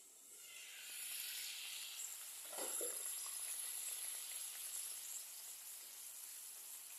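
Fish curry gravy with potatoes bubbles in a covered pot, a steady soft hiss and sizzle running throughout, with one brief louder bubbling burst partway through.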